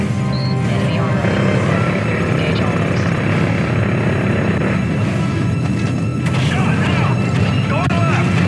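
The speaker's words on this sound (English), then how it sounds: "Get these choppers off our ass" Helicopters in Call of Duty: Modern Warfare 3 (2011) thrum steadily as a loud, dense combat wash with booms and gunfire mixed in, while voices talk over the din throughout.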